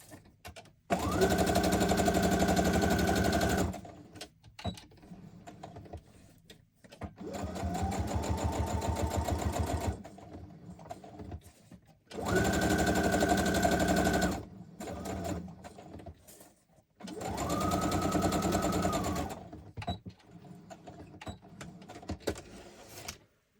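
A sewing machine runs in four long bursts, stitching around a paper junk journal pocket, each run a steady buzzing whir with short pauses between.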